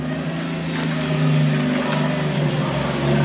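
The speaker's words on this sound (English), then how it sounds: "Oh, it's a Supra!" A Toyota Supra's engine revs loudly and close by, a steady low-pitched growl that swells and surges at a car meet, with no talking over it.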